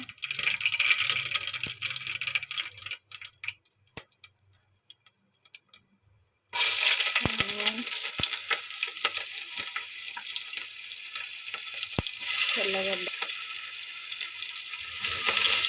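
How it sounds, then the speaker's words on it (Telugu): Loud, steady sizzling of tempering spices, including cumin, hitting hot oil bursts in partway through, crackling close up after a quieter stretch of faint kitchen noise. "చింతయుగురు పోపు వేస్తాను"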